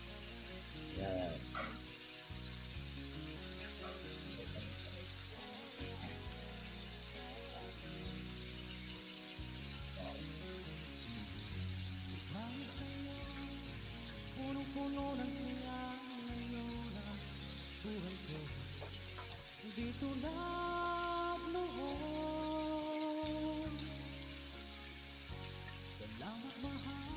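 Fish frying in a pan for sinaing na isda, a steady broadband sizzle running the whole time under background music, with no talk.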